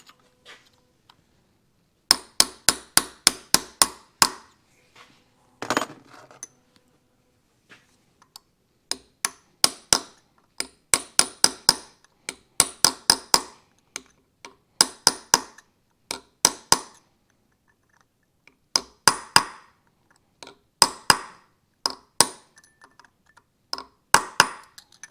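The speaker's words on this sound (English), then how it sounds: "So now we've just got to bend over the washer." Hammer blows bend over a washer on a 1980 Suzuki RM 400 engine: sharp metallic taps come in quick clusters of four to eight, separated by brief pauses, close and crisp against an otherwise quiet background.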